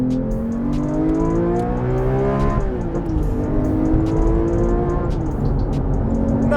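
A Porsche 911 R engine revs high and steadily climbs, its sustained wail rising in pitch, loud and continuous, with a brief dip midway before pushing on.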